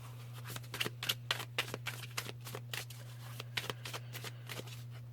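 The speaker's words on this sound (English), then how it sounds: "And I'll pull out an extra card for that." Tarot cards are shuffled and pulled in quick, crisp snaps and riffles, close and fairly quiet, repeating in an uneven rhythm over a low steady hum.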